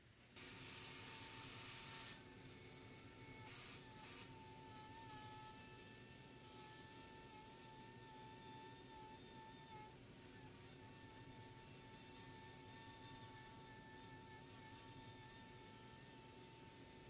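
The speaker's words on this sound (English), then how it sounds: "I'm using a 1/4 inch straight bit at 1/2 inch deep." A router fitted with a 1/4 inch straight bit cuts half an inch deep into wood, guided by a collar riding a jig for kitchen drawer boxes, giving a loud, steady whine that runs unbroken from start to finish.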